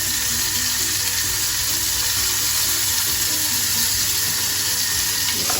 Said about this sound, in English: We just turn over that salmon.